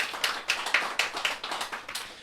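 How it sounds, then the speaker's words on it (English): A few people clap at an evening talk on orchids after a sponsor is thanked, sparse individual claps in an uneven rhythm, close and clear. "huge round of applause for Hibiscus"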